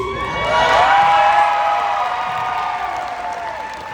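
A convention crowd at Sonic Expo in Dallas cheers and whoops loudly, with clapping mixed in, swelling then slowly fading over several seconds.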